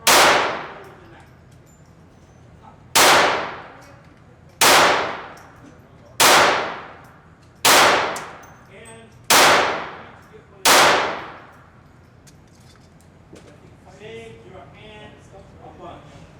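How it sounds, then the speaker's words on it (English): A Browning Buck Mark .22 pistol fires seven sharp, loud shots at an even pace about a second and a half apart. Each crack rings out and decays quickly, followed by quieter background sounds. "If you squeeze this one, it's going to fire."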